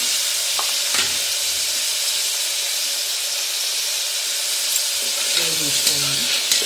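Tomato pieces and softened onions fry in a pan with a steady, broad sizzle, while a utensil stirs and scrapes now and then, louder near the end.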